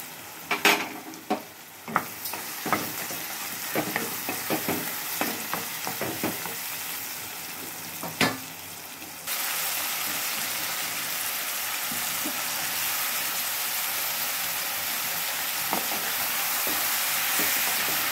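Eggplant pieces frying in a pan with turmeric, a steady sizzle under repeated clicks and scrapes of stirring, growing into a louder, denser frying hiss about halfway through.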